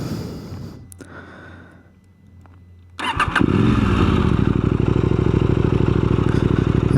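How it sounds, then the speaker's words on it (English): KTM 890 SMT motorcycle engine cranking and catching after a quiet idle-like hum, then settling into a loud, steady, throbbing run with a dense rhythmic pulse, close by and without talk. "let's fire the bike up"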